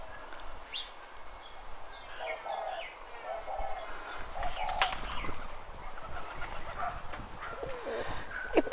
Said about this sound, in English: I had to pause and film my pigeon